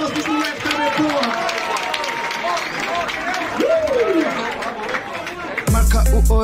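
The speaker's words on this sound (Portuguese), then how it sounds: "E gostamos de palmas para os moleques também" Crowd at a Brazilian rap battle, the Batalha da Aldeia, applauds and cheers for the rappers in a loud, steady mass of claps and voices, with shouting and chatter over it and a heavy thump near the end.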